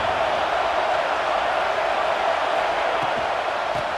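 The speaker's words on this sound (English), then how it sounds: "this crowd coming to life here, trying to help the defense get a stop" Stadium crowd roaring steadily in EA Sports College Football 26 during a game between South Carolina and Alabama, a dense, continuous wash of cheering that stays loud throughout, with faint commentary beneath.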